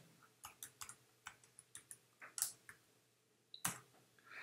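Keys clack in quick irregular bursts on a computer keyboard as a command is typed, close and fairly quiet, with a short pause before a final louder cluster of keystrokes.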